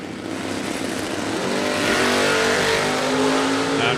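Drag race cars at a door car meet launching off the starting line, the Malibu pulling a wheel stand, their engines a loud, dense roar that swells and holds steady as they accelerate away, with no voices.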